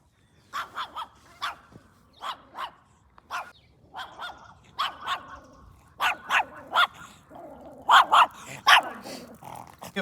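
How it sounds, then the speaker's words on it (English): Several small dogs bark in sharp, repeated bursts outdoors along a walking route, the yaps growing louder and more insistent toward the end, with a few growls mixed in. "Little doggos."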